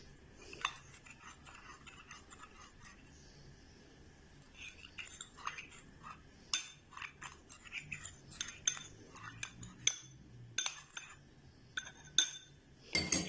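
A spoon clinks against a pan while milk for bread rasmalai is stirred, with faint, irregular metallic taps and scrapes that grow more frequent toward the end over a quiet background.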